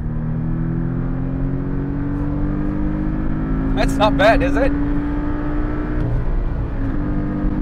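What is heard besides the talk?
Porsche 718 Boxster S engine revving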